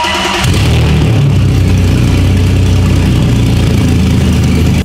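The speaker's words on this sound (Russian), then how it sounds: "И мы сейчас заведем и послушаем, как он сладостно успокоит мои нервы." A BMW E30 being built as a winter drift car, its wiring still unfinished, starts up with a brief crank and catches, then settles into a loud, steady, rumbling idle close by with no talk.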